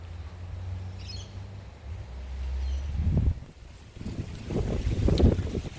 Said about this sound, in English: So sorry about the wind, guys.